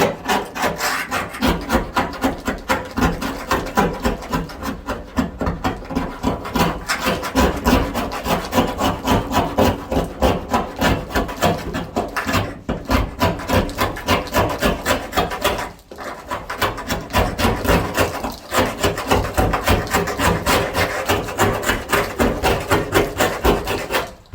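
Single-stage paint without primer being scraped off a 1964 Mustang trunk lid, a loud, close, rapid rhythmic rasping of repeated strokes that continues steadily with one brief pause, no talking.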